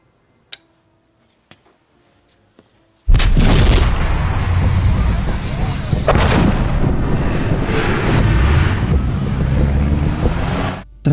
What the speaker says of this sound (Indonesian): bom tersebut meledak dengan sangat kuat hingga nyaris menewaskan Avner dan beberapa warga sipil di hotel tersebut